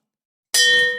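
A bell is struck once after a moment of silence, ringing out with a bright metallic clang and a sustained, slowly decaying tone, close and loud with no talk over it.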